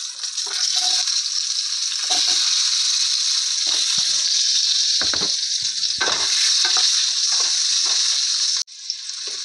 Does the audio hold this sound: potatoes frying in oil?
yes